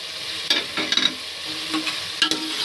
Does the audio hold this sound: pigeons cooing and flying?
no